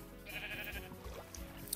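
Sheep bleat in Minecraft, a faint wavering animal cry with a few short bleats that repeat softly.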